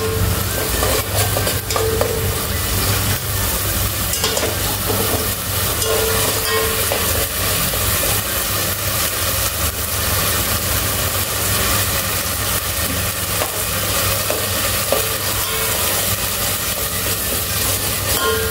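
Tomato puree tipped into fried onions in a pan over medium heat for vegetable pulao, giving a loud, steady sizzle with continuous stirring scrapes throughout, no voices.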